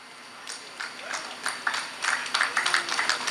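Rally audience clapping hands at an outdoor political gathering, scattered claps starting sparse and building into a denser, uneven patter of applause from a moderately distant crowd.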